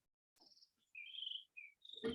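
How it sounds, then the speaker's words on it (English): An outdoor bird gives a few short, high chirps and whistles with brief gaps between them, faint and isolated against quiet surroundings. "You hear that bird? That bird doesn't need money."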